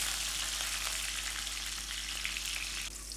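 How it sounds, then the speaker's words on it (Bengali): Pumpkin pieces sizzle in hot oil for khichuri, an even, close and fairly quiet frying hiss that runs steadily without a break and with no voices. "এবার মিষ্টি কুমড়োগুলো লালচে করে একটু আমি ভেজে নেব"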